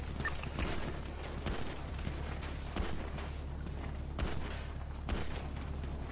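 Scattered gunfire during a GTA V NoPixel roleplay shootout: sharp reports spaced a second or so apart over a steady low rumble, with faint distant pops between them.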